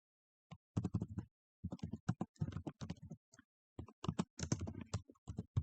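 Quiet, close typing on a computer keyboard during Cisco router NAT configuration, with bursts of rapid key clicks and brief pauses between them, steady and without any talk.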